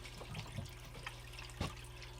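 Water trickles and splashes softly while gold concentrate is rinsed in a small can, faint and close with a few brief splashes.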